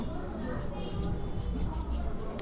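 Marker or chalk writing an entry on a board during an accounting class, a steady scratchy stroke sound close by with a low room hum underneath.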